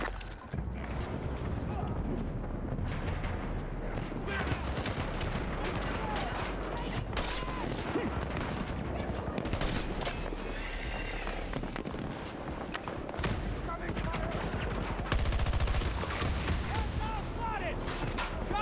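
A video game firefight carries on with intermittent gunfire, running footsteps and mechanical clatter amid constant battle noise, while game voices shout and call out over the action.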